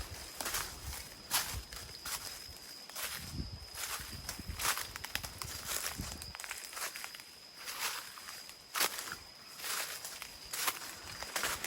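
Footsteps walking outdoors, a string of close crunching steps at an uneven pace with brief rustles in between, with no talking.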